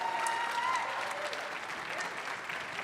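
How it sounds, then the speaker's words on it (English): Audience applause for the US Women's Air Force Band at a Millennium Stage concert, a steady broadband clapping that holds for the whole stretch, fairly distant, with a faint tone and murmur in the hall. "would you please have a round of applause for the WAF band?"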